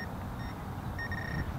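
A metal detector pinpointer, used while hunting coins in a park, gives a steady high electronic tone with short repeated chirps over outdoor background noise.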